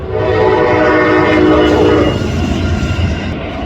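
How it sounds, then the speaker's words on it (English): A train rumbles past close by, loud and steady, with a horn-like tonal blast over the heavy rolling noise of the cars. "Here comes a train."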